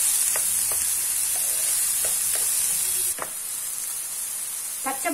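Onion and garlic sauté in a pan for a quick pasta, a continuous sizzle with several sharp utensil scrapes and clicks, which drops noticeably quieter partway through before a final cluster of clatter.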